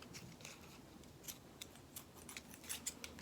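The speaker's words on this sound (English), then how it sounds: "then I'm just going to snip that end" Scissors snip twine tails on a fall scrapbook page, a run of small, crisp, close cuts that start sparse and grow quicker toward the end, with only quiet room noise underneath.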